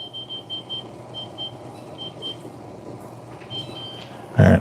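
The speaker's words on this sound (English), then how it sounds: "Let's set a timer." A kitchen timer beeps repeatedly while being set during home cooking: short, evenly spaced electronic chirps in two bursts over a quiet room hum, ending with a sudden loud thump.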